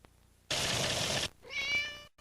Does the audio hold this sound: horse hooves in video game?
no